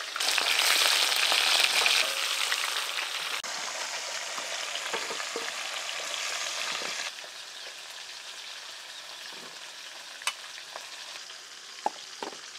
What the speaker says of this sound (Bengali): মাছ ভাজা হয়েই এলো